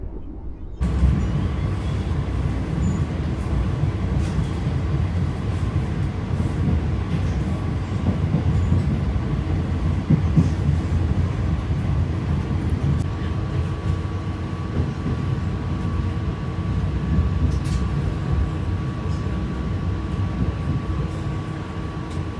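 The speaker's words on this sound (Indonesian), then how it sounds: "saat ini di jalur 1 diberangkatkan KRL" A KRL commuter electric train departs at close range from a station platform in Indonesia, a continuous low roar of rolling wheels with a faint electric hum running throughout.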